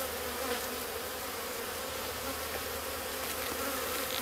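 Honeybees swarm around an opened hive frame after a honey harvest, a dense, continuous buzzing hum heard close and steady with no talk.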